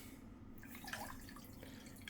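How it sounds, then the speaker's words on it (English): Water poured into a small pan already holding sugar, a faint, soft trickle and drip that runs steadily for about two seconds with no voices. "The next thing we're gonna add is the water."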